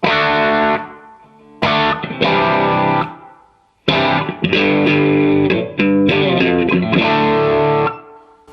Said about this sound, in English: If I hit the strings hard, then it sounds overdriven.